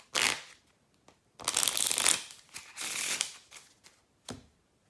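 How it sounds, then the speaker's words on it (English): Someone does an in-the-hands riffle shuffle with a deck of playing cards, making several quick, close, crisp fluttering bursts of riffling separated by short pauses and no talking. "This is called the Riffle Shuffle. It's actually the In the Hands Riffle Shuffle."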